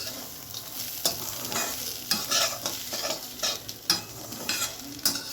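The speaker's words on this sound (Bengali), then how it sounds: "এই সবগুলোকে এবারে আমি একসাথে খুব ভালোভাবে মিশিয়ে নেব।" Semolina mixed with nuts and raisins being stirred in a pan, with repeated scraping strokes of a spoon at an uneven rhythm over a soft background sizzle, close and fairly loud.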